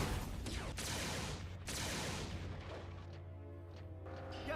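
Heavy gunfire from Fowler's guns rolls through a Transformers video game battle, a dense continuous barrage of booming shots and blasts that fades into scattered, lighter shots toward the end.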